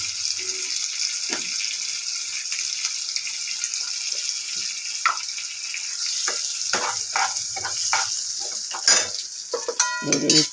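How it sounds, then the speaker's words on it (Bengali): Spices frying in a pan with cumin powder just added, stirred with a utensil: a soft steady sizzle under a series of scraping and clattering stirring strokes that grow busier toward the end, without speech. "নেড়ে নিচ্ছি।"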